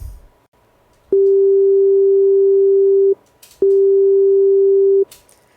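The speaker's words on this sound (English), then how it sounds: "We're gonna play the sine wave right now." A synthesizer plays a pure sine wave as two long, steady, unwavering tones. Each tone lasts about two seconds and is separated by a short gap, loud and alone with no talking.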